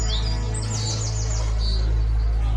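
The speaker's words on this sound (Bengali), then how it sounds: "একটা বাঁশ পাতা পাখি" A green bee-eater gives a quick series of high, thin chirps and trills, repeated a few times over a steady low hum.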